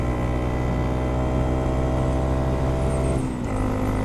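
A Honda Monkey 125 motorcycle pulls steadily in fourth gear at speed during a top-speed run, its engine droning as a continuous, even hum with wind noise, close and alone.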